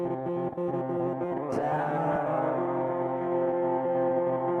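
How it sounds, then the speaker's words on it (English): Roland SP-505 drum machine beat with a gated reverb effect: thick, abruptly cut-off reverb tail on the hits, sustained synth tones underneath, loud and steady throughout. "The output effect I have enabled right now is the gate reverb."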